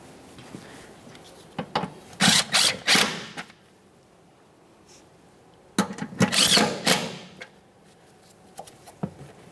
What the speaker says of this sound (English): Let's tighten our 2 10mm bolts